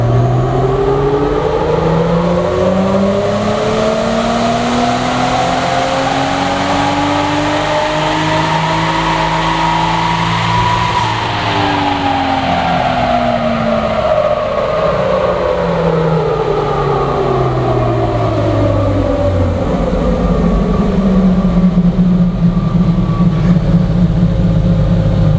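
A 400 hp RB30DET-powered Nissan Patrol roaring through a fourth-gear dyno pull, a loud, sustained engine note rising steadily in pitch, dipping briefly, then climbing again to the end, with no talk.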